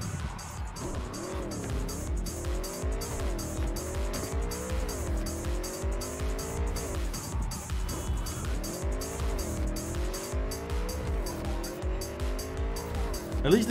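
Delamain car driven in Cyberpunk 2077, engine droning steadily with repeated rising and falling tire squeals and skids throughout, close and loud, ending in a brief louder burst.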